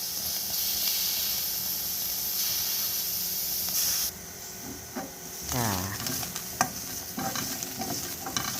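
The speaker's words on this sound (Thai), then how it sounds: "หอมกระเทียมคั่วไปก่อนนะคะไฟอ่อนๆ" Shallots and garlic dry-roasting in a pan over low heat for a Lao-style jaew dipping sauce, giving a steady close sizzle and hiss, then scattered scraping and stirring clatter in the second half.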